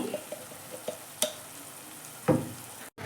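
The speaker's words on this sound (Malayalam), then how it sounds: "മസാല നമുക്ക് നന്നായി മിക്സ് ആക്കി കൊടുക്കാം" Spice masala of black pepper, turmeric and coriander powder stirred in a frying pan for beef macaroni: a steady sizzle broken by several scraping strokes of the spoon, with a louder scrape near the end and no talking.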